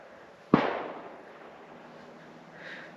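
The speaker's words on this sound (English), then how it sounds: "I don't think they had firecrackers then" A single firecracker pops far off near an old hillfort, one sharp distant crack that fades into quiet outdoor air.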